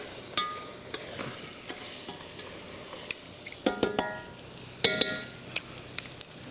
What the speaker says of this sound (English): I'm gonna stir this up.